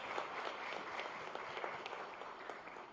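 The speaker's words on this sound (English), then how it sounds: "Please welcome with a round of applause" Soft, distant applause from an audience at a business agreement ceremony with companies in Gandhinagar, a steady patter of many hands heard quietly throughout.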